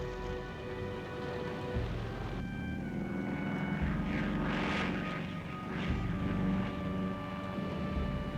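Multiple propeller engines of B-29 Superfortress bombers droning in a steady, loud, tonal roar that swells and shifts as the aircraft pass, with no voices.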